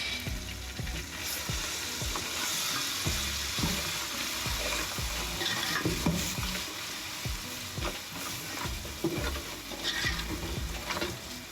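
Ginger and garlic frying in a pot for a mutton samp and beans curry, a continuous sizzle broken by frequent spoon scrapes and clinks as it is stirred, close and steady with no talk.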